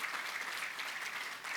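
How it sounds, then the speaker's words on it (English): Dense, steady applause from an audience for competition winners at a South Bay economic forecast event, a continuous wash of many hands clapping at even loudness. "Let's give them all a round of applause, please."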